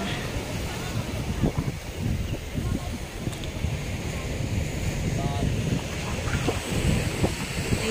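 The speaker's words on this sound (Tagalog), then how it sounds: "Ang lalaki ng alon." Large ocean waves surge and crash at Mabato Beach, a rough, continuous roar mixed with gusting wind buffeting the microphone and a few voices nearby.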